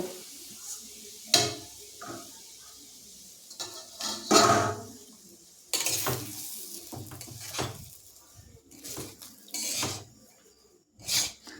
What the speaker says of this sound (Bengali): এরপর সমস্ত সুজি এখানে দিয়ে আমি এটাকে ভেজে নেব